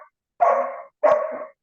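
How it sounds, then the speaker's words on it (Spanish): A dog barks twice in quick succession, two loud, close barks separated by a short pause, with no talking around them. "Tengo mi perro."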